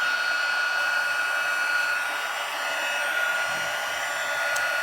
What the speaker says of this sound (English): I'm going to take my embossing tool, my heating tool